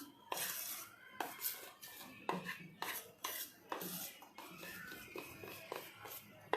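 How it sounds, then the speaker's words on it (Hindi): A spoon stirs vrat dabeli batter quickly in a bowl, making quiet, rhythmic scraping and clinking strokes that repeat about every half second, with a voice speaking softly in the background. "एक क्विक मिक्स देंगे हम इसको, अच्छे से सब तरफ से मिक्स करना है।"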